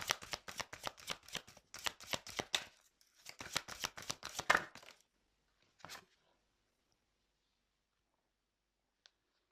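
Tarot cards are shuffled by hand in quick rustling bursts, two main flurries of riffling and slapping, then a single card is drawn with a soft flick; close and clear, and it ends in near silence.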